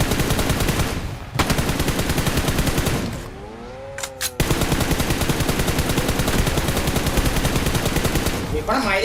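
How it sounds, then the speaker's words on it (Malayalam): Rapid automatic gunfire in PUBG, loud and close, in long sustained bursts with a short lull in the middle before the firing resumes. "അതിന് വെടിയൊക്കെ വിടും."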